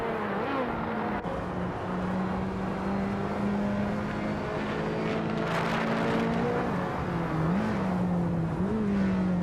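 Racing video game cars run wheel-to-wheel at speed, their engines droning loud and continuous with pitch rising and falling as they shift and jostle for position, a faint voice occasionally over the roar.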